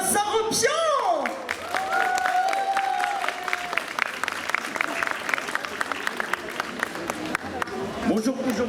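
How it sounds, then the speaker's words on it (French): An audience applauds loudly to welcome voice actor Vincent Ropion onto a stage for an interview, with dense sustained clapping mixed with whistles, whoops and scattered shouts that taper off toward the end. "veuillez applaudir et accueillir bien fort Vincent Rompion."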